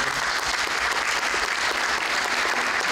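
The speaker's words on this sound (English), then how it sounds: "can we just give them a round of applause?" Continuous, full applause from an audience at a mental health and substance use panel, honoring student panelists; dense clapping of many hands at a steady loudness throughout.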